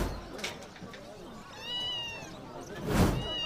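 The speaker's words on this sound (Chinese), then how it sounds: "好可爱的小猫啊！" A small kitten in a pet shop gives a few soft, high meows, one drawn-out and rising, close by, while people talk quietly around it.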